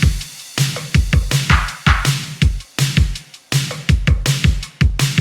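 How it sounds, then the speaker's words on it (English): A synthpop drum mix in eighties style thumps along with punchy kick, snappy snare, ticking hi-hat and layered loops in a steady driving groove, loud and dry with no voices. "All in all, the drums sound like this."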